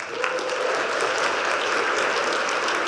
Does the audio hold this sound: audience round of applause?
yes